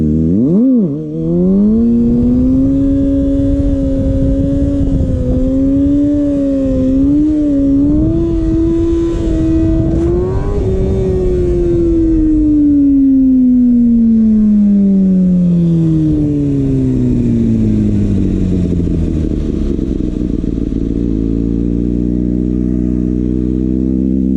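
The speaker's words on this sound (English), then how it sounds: "Alright, so we're at stock idle right now." A Kawasaki ZX6R motorcycle engine idling at stock settings, a loud, steady close-up drone whose pitch wavers, lifts briefly, then slowly drops and settles lower.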